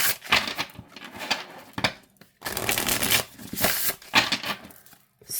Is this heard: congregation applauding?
no